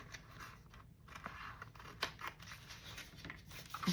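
Scissors snip through manila envelope paper up close, a quick series of short crisp cuts with papery rustle in between, fairly quiet and with no talking.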